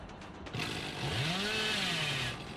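Billy's chainsaw in the video game Dead by Daylight revs up with a rising, buzzing motor whine that holds steady and loud before easing off.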